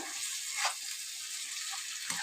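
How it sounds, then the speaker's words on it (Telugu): A little water goes into a pan of amaranth-leaf liver fry curry, a brief soft hiss and splash over a quiet sizzling background, faint and without speech. "అందుకే కొద్దిగా వాటర్ వేసుకుందాం"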